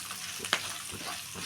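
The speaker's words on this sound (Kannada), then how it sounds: "ಸ್ವಲ್ಪ ರುಚಿಗೆ ತಕ್ಕಷ್ಟು ಉಪ್ಪು ಹಾಕ್ಕೊಂಡ್ಬಿಟ್ಟು ನಾವು ಈ ಥರ ರೋಸ್ಟ್ ಮಾಡೋಣ" Grated raw mango roasting in oil with turmeric and salt for mango chitranna makes a soft steady sizzle close by, with one brief sharp scrape of stirring partway through.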